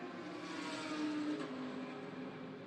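A GT race car at Oschersleben runs off into the gravel after a big sideways lock-up, its engine a steady, fairly loud whirring drone throughout with no voices over it.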